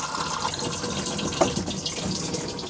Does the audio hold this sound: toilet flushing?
yes